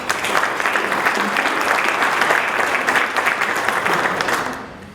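Members at a Rotary club meeting give a guest a round of applause, a full, even wash of clapping from the room that carries steadily and then thins out near the end.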